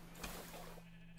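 Sheep bleating in a video game, with one short bleat near the start and a faint second one at the end over a steady low hum, no talking.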